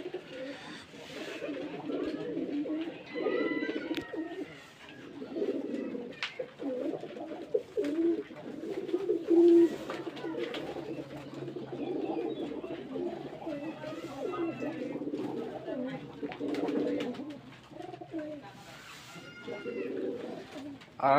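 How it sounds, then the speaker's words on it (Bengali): Rajshahi Giribaz pigeons coo steadily while feeding, a dense overlapping murmur of soft, low coos from several birds close by, with a few louder calls rising above the flock throughout. "ওই যে কবুতরগুলো সব খাচ্ছে"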